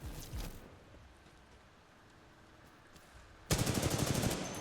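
Automatic weapon fire in Titanfall 2: a short burst near the start, a quiet stretch, then a louder rapid string of shots firing steadily to the end.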